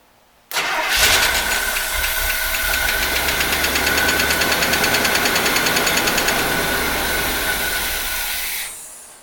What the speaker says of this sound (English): You guys hear that tick? That looks like a lifter tick to me.